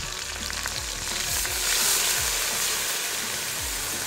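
Coconut milk and spice powder are stirred into a fish and brinjal curry frying in a pan, giving a steady sizzle with repeated scraping strokes of the spoon, close and clear with no talking.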